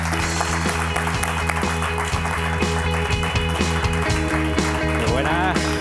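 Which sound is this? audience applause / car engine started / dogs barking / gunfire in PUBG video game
audience applause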